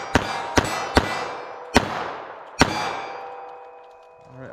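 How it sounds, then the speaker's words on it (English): Five sharp, loud reports from a .380 ACP pistol loaded with Fiocchi Defense Dynamics ammunition, fired at an outdoor range from 12 yards. The shots come at uneven intervals, and each ringing crack decays slowly. "I'm just gonna shoot from 12 yards here"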